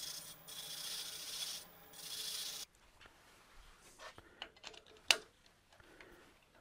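Hand sanding the V grooves and beads of a turned wooden box with 220-grit sandpaper, two short bursts of close, soft rubbing strokes, followed by quiet handling taps and clicks.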